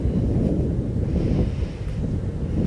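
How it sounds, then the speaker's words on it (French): A cool breeze blows outdoors on a 16-degree day beside a parked truck, a loud continuous rumble of wind buffeting the microphone throughout, with no voices. "il fait 16 degrés mais il y a un petit vent frais"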